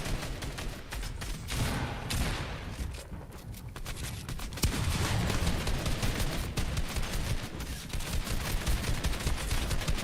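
Gunfire in Fortnite during a trio tournament finals match: dense, overlapping bursts of shots that keep up loudly for the whole stretch, growing slightly fuller midway, with no clear talk on top.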